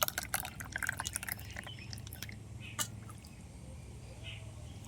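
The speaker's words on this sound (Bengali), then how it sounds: "একটা ছাঁকনি নিয়েছি, ছাঁকনি দিয়ে এইভাবে একটু ছেঁকে এইভাবে দিয়ে দেবো।" Raw mango ice cream mixture is poured through a strainer into moulds, giving close, soft liquid trickles and drips. A burst of splashy pouring comes at the start, then quieter dribbles follow.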